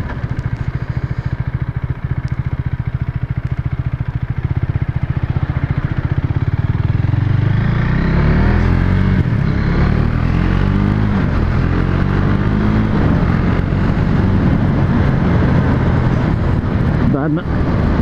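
Husqvarna Svartpilen motorcycle riding along a road, engine pulsing and climbing through revs loud and close, with a rider talking over the ride.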